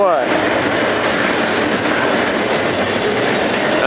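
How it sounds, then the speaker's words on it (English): A double-stack freight train rumbles steadily across a bridge in upstate New York, a loud, close, continuous roar of wheels and cars with no break over the whole stretch. "Do we have a train or what?"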